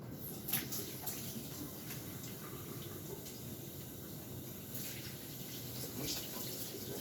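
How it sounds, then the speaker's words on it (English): Hands being washed under a running tap before putting on fresh gloves, a steady hiss of flowing water, close and continuous, with occasional faint splashes. "I'm going to wash my hands and put on some new gloves"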